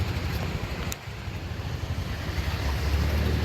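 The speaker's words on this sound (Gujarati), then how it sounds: "આમાં પાણીના ધંધુકા જાય અત્યારે ચાલુ છે" Rushing floodwater in Junagadh near Bhavnath, a steady broad roar with a low rumble and wind buffeting, continuous and fairly loud throughout.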